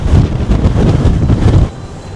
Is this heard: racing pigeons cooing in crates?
no